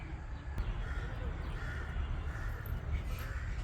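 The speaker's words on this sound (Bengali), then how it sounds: "পাখিরা ডাকছে" Crows caw faintly in a quiet village setting among other bird calls, with a low rumbling background throughout.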